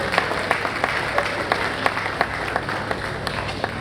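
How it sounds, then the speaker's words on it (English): Audience applause for the president at the NANTA 49th annual general meeting, a steady wash of clapping from a sizable crowd with distinct individual claps standing out throughout, at moderate level with no talk. "Please, a round of applause for our president."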